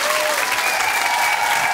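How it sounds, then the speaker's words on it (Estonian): Audience applause at a comedy show, dense steady clapping from a full crowd throughout, loud and close. "aplaus talle"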